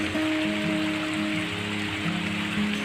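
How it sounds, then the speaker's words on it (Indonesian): Rain falls steadily during an outdoor micro fishing session, a constant wash of drops heard close with some faint steady tones running beneath it and no talk. "karena cuacanya lagi hujan, kondisi hujan bro"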